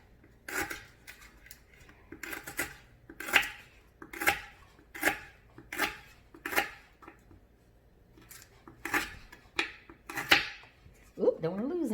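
A small knife chops through tough lemongrass stalks on a cutting board at home, giving about a dozen sharp, separate cuts in an uneven rhythm. The cuts sound close and fairly loud against a quiet kitchen background.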